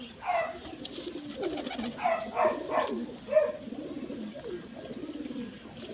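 Soft pigeon coos repeat in short rounded phrases, close by, over a steady outdoor hiss.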